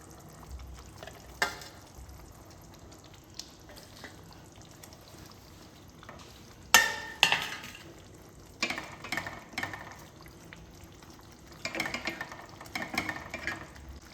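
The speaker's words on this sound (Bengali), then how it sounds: "এবার আমি এই গ্রেভির মধ্যে মাছগুলো একটা একটা করে দিয়ে দিচ্ছি" Pabda fish pieces go one at a time into a simmering mustard gravy, each drop bringing a short splash and sizzle over a quiet background bubble, with several separate bursts spread apart.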